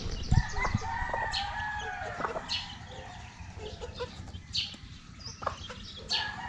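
A mother hen with six chicks clucks and crows intermittently at a moderate distance over a noisy farmyard background, with scattered short calls throughout.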